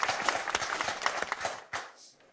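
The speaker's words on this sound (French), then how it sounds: "Applaudissements pour Claudia et Christophe, parce que c'est un joli coup" Studio audience applause on the French TV game show Des Chiffres et Des Lettres: brisk, dense clapping close by that thins and dies away toward the end.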